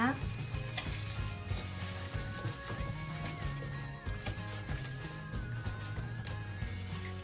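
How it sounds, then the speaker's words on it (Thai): Coconut sticky rice pudding mixture with salt and pandan being stirred in a pot, continuous close sizzling and scraping with occasional clinks of a utensil against the pan, no talking. "คนส่วนผสมทุกอย่างให้เข้ากันนะคะ"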